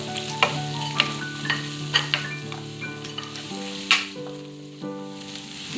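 Onions frying in hot oil for Sri Lankan tempered potatoes, a steady close sizzle with sharp spatters and stirring clicks over a background of sustained musical tones.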